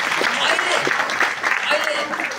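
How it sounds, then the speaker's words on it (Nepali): A crowd applauds a young boy at a gathering, steady broadband clapping that fills the short moment from start to finish, with voices faintly mixed underneath. "बाबुको लागि एकचोटि ताली ल त"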